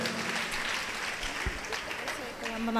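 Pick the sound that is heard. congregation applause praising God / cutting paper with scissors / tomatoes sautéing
congregation applause praising God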